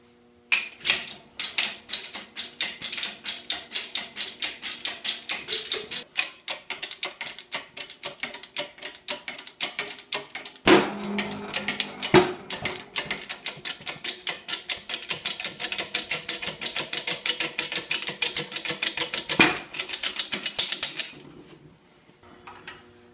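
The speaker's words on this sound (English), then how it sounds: "this is how I split the cranks for singles using a hydraulic press" A hydraulic press splits a single-cylinder motorcycle engine crankcase. Loud, rapid, regular clicking and ticking runs on for about twenty seconds, with a few heavier knocks and thuds partway through, before the noise stops.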